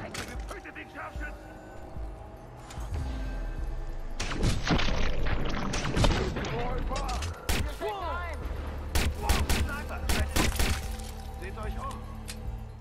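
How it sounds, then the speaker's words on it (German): Rapid pistol gunfire in the video game Watch Dogs, with sharp cracks and bursts over several seconds mixed with impacts and game action, under someone talking. "ich alle die mit der Special-Pistole abknall"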